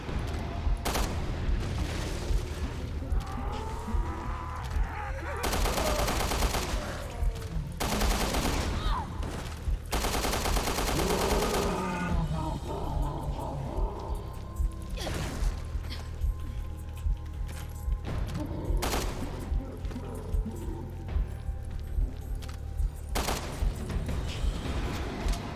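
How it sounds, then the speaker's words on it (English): Rapid machine pistol gunfire in Resident Evil Revelations 2, loud repeated bursts over a dense game soundscape with clanks and booms mixed in. "These are where the machine pistol really comes in handy."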